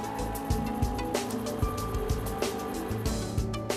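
A 40-hp outboard boat motor runs steadily after being started, producing a low, even hum with regular faint clicking and knocking, recorded fairly quietly.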